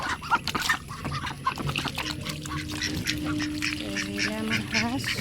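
A group of ducks quacks insistently at feeding time, nearby and overlapping, with honking calls rising toward the end over faint background voices.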